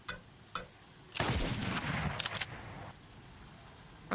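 Sawed-off 1887 shotguns fire in a video game: a few soft clicks, then a loud, close blast around the one-second mark that rolls into a sustained roar, with more sharp cracks about a second later. No voices.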